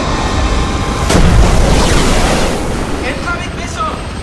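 A submarine torpedo launch in a sci-fi film sounds as a deep rushing boom with heavy low rumble and a watery surging wash, swelling loudly then trailing off into churning noise.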